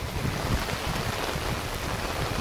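Steady rain falling in a village during a long downpour, a dense, even hiss of drops with no voices.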